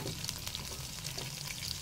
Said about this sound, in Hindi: अब मैं इसमें ये अदरक का पेस्ट डालूंगी।